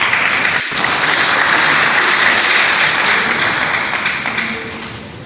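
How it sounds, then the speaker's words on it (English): Loud, dense applause from a conference audience at a global health workforce event fills the space, a steady wash of many hands clapping that tapers slightly toward the end. "another round of applause for him"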